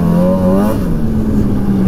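A 2005 Polaris Fusion 900 snowmobile engine revs loudly and close, its pitch climbing and then settling into a steady drone, with no talking.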